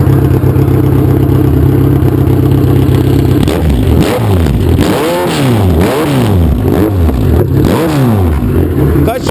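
A Kawasaki Z1000 motorcycle with a loud 4-into-1 exhaust idles, then is revved repeatedly in sharp rising and falling bursts, close and very loud, with voices faintly underneath.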